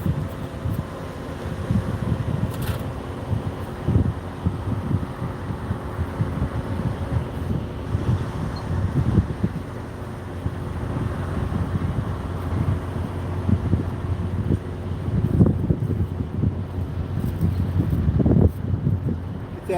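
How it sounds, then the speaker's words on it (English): Gusty wind at an outdoor road concrete pour in Tallulah, Louisiana buffets the microphone in steady low rumbles and swells, with occasional louder bursts, and no one speaking. "It is windy."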